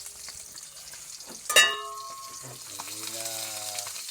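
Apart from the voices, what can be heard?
milkfish frying in a pan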